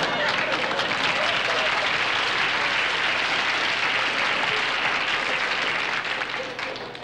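Studio audience applause on a 1969 television comedy-variety show, a dense, steady wash of many hands clapping at full strength that holds throughout and tapers slightly at the very end.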